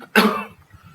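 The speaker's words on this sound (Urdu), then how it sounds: "میں کافی دیر سے سن رہا ہوں آپ کھانس رہے ہیں۔" One sharp, loud cough from a man suffering an asthma attack, close by and abrupt, trailing off quickly into near silence.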